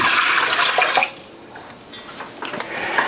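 About one and a half cups of water poured into a container while making keto cheese jalapeno bread, a brief close splashing pour that stops after a second, followed by quieter faint clinks and handling noises.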